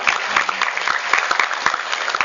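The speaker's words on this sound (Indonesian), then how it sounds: "Tepuk tangan buat mereka." Steady applause from an audience at a university campus orientation, a dense, continuous patter of many hands clapping without a break, fairly close and full.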